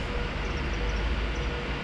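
Ex-Virgin Trains train 392137 arrives with a loud, steady rumble that fills the whole short stretch, close and continuous, with no talking.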